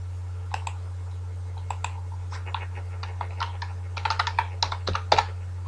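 Typing on a computer keyboard while editing Python code: faint, scattered key clicks that grow quicker and denser toward the end, over a steady low electrical hum.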